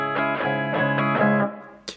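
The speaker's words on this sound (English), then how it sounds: "but if you use it parallel to the neck of the guitar, you get an ugly sound like this." A finger brush rubbed parallel to the neck of an electric guitar gives a harsh, ugly tone: five or six rapid, buzzy, pulsing chord swells in a row, then a short scratchy noise at the end.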